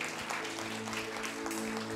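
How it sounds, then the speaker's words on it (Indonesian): Soft, distant applause from a church congregation, blended with a steady backdrop of held musical notes. "Tepuk tangan buat Yesus Tuhan kita."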